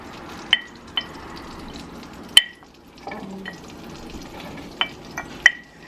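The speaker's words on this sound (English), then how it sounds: "we're just going to saute these up until they become nice and fragrant" Onions and garlic sautéing in melted butter, a quiet low sizzle broken by several sharp utensil taps and clinks against the pan.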